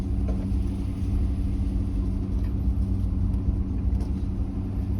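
A manual-transmission log truck rolls downhill after shifting into second gear on a steep dirt road, its engine giving a steady low rumble that stays near and even, with no talk.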